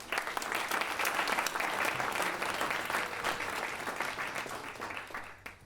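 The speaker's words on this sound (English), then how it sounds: "give them a huge round of applause for organising this wonderful event." Sustained applause from an audience at an International Mother Tongue Day community event in Leeds, thanking the organisers; dense, loud, steady clapping filling the hall, tapering off near the end.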